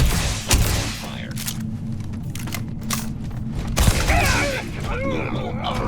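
Sharp gunshots and heavy booms in the Starfield video game, a few separate loud blasts with a dense burst near the end, under spoken voices.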